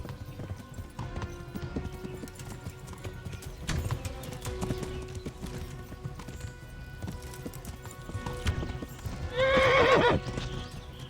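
Horse hooves clip-clop in a medieval video game, Kingdom Come Deliverance, with a loud neigh near the end rising above the rhythmic hoofbeats; mostly ambient game sound with no talking.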